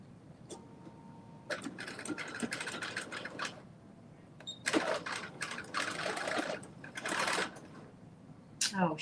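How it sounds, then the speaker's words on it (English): A sewing machine stitches an elastic casing in a series of short, close, stop-start bursts of rapid whirring separated by brief pauses. "And now I am stitching"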